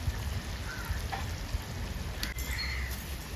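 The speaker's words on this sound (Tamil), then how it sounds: "அப்படியே குழம்பு எப்படி கொதிக்குது பாருங்க" Steady bubbling and crackling simmer from a pot of ladyfinger (okra) gravy close by, a continuous dense fizz with small pops and no voices.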